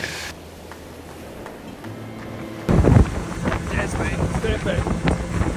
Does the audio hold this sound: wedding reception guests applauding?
no